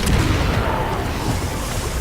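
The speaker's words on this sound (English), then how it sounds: "now to properly test the grenade launcher's explosive rounds and acid rounds" Explosive rounds from a grenade launcher going off in Resident Evil 6, a dense sustained rumbling blast that fills the whole stretch, loud and close, with no talking.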